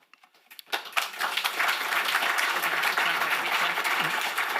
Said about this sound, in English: You don't have to clap after each one.